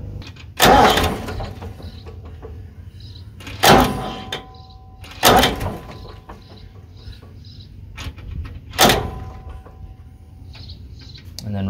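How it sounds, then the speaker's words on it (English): A Ford 201 diesel engine is bumped over in four short cranking bursts, each a loud broadband surge lasting about half a second, separated by quieter shop noise during a valve adjustment. "So we'll spin the motor over."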